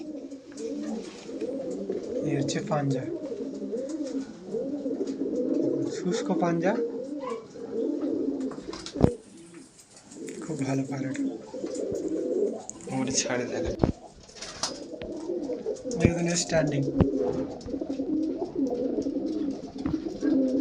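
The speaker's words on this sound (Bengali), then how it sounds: "বন্ধ লেজের পায়রা, প্রত্যেকটাই বন্ধ লেজের।" Closed-tail Madrasi pigeons coo in repeated soft, rolling calls close by, while someone talks over them throughout with a few sharp knocks.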